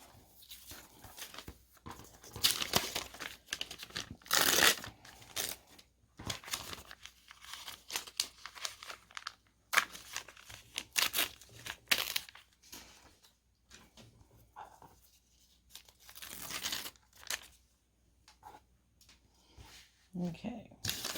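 Fabric being cut on a cutting mat against a ruler, with scraping, sliding and rustling sounds in irregular bursts while handling the material, some faint talk mixed in.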